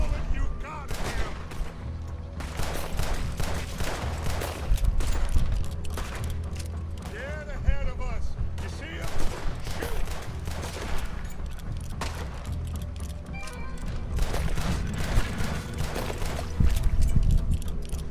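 Video game gunfire as characters unload on a huge alligator, dense rapid bursts and shots layered over rumbling game ambience, with voices talking over the action.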